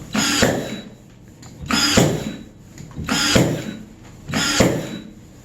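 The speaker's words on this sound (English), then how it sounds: "This is a battery powered Ryobi nail gun using 2-inch nails." Four sharp, loud pneumatic-style bangs from a battery-powered Ryobi nail gun driving 2-inch nails, spaced about a second and a half apart, each a quick burst with a short hiss.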